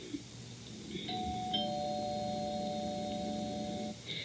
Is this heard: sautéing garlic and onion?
no